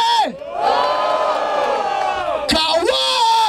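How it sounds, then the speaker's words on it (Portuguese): A crowd at a rap battle cheers and shouts for a rapper, loud whoops and yells filling the space, with a sharp burst of cheering near the end over sustained shouting voices. "Barulho para as rimas do Mike!"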